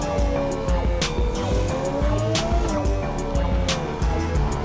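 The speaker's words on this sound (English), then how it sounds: "You hear the downshifts on this thing?" A Lamborghini in a video game, run in sequential mode, revs hard and downshifts with rising and falling engine pitch, tire noise and sharp crackles throughout.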